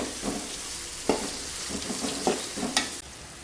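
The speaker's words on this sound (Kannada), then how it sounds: "ಸೊ ಈರುಳ್ಳಿನೂ ಚೆನ್ನಾಗಿ ಫ್ರೈ ಆಗಲಿ" Onions frying in a pan for a Navratri home dish, a steady sizzle with occasional stirring scrapes and clinks of a spoon at close range.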